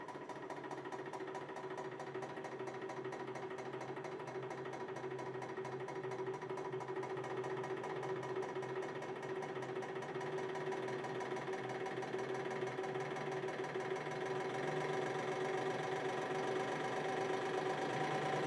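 A copper cylinder being crushed in a hydraulic press, heard as a steady mechanical hum and droning whine of the running press, even and unbroken throughout.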